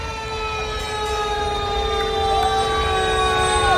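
Fort Lauderdale Fire Rescue Engine 2 sounds its loud wailing siren at a St. Patrick's Day parade, steady layered tones with a rising and falling sweep over engine rumble, close and continuous.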